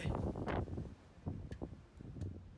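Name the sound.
wind blowing at a mountain gap on Sripada hike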